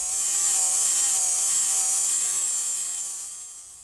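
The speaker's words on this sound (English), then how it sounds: "it's time to dress up our cuts with a grinding wheel" A grinding wheel dresses freshly cut metal on a car's rocker panel, making a loud, steady, hissing high-pitched grind that holds for several seconds and then eases off near the end.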